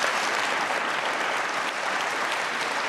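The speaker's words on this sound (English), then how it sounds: "Clap if you agree with that." Sustained audience applause at a talk on threats to American democracy, a dense steady wash of many hands clapping at even volume throughout with no speech over it.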